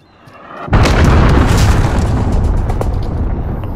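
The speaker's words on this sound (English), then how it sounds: "Enemy cruise missile incoming." A cruise missile strike in the video game Modern Warfare lands as one heavy, booming explosion that swells suddenly and then rumbles on loudly for several seconds.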